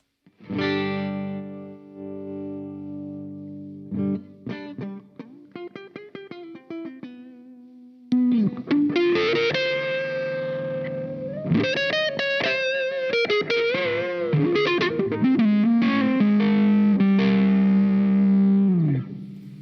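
Fender Vintera II 70s Jaguar electric guitar with tone rolled down for a dark, smooth, bassy distorted woman tone, playing sustained notes and bends with some chorus and reverb, loud and upfront, no talking.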